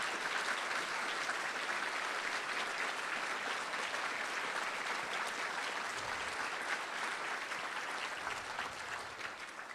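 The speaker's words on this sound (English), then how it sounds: "let's give them a round of applause" Sustained crowd applause at an ethics honors celebration as therapists stand at their tables, a dense even wash of clapping throughout.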